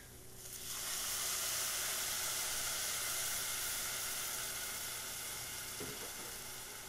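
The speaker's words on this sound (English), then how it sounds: "Now we're going to start putting the milk in." Milk poured into a hot pan of biscuit gravy drippings sizzles in a loud, steady hiss that swells after a brief quiet start and then slowly eases off.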